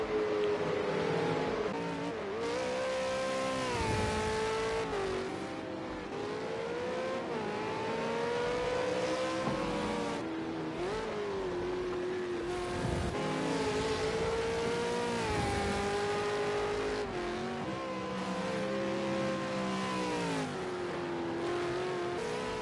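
Supercars race engines scream continuously as cars pass on the Bathurst track, pitch climbing and falling through gear changes, loud and unbroken for the whole stretch.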